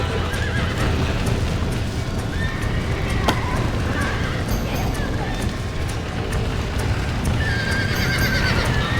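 Horses neigh and whinny with clip-clopping hooves in the Red Dead Redemption video game, the whinnies rising above a steady, dense bed of game ambience and hoofbeats throughout.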